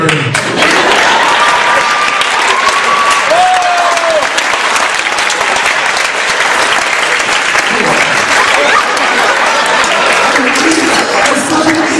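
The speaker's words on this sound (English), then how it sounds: "Wait a minute, they're still applauding?" Loud, sustained audience applause after a musical performance, dense and continuous for the whole stretch, with a few faint voices and whistles mixed into the clapping.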